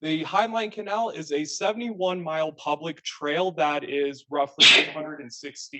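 A single sharp sneeze bursts out near the end while someone speaks steadily about a public trail, loud and close, cutting briefly into her talk.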